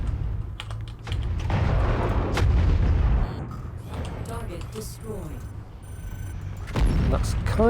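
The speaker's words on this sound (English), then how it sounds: "let's get a couple of missiles on that." Missile salvo launched from a mech in MechWarrior 5, a dense run of loud booming launches and thuds in the opening seconds, then a lighter clatter, with a second heavy burst near the end.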